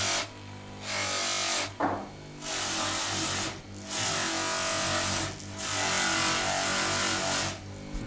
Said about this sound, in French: Nous passons au polissage de la médaille.